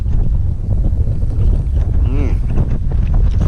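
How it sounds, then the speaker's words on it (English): Strong wind blowing outdoors, loud continuous buffeting rumble against the microphone, with someone speaking over it. "you can probably hear the wind. The wind is getting up now."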